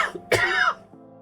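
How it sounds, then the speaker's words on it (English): A character in the video game Stationeers coughs and chokes: one short, rough, close cough with a strained throaty tail, over a faint game hum. "Coughing and choking."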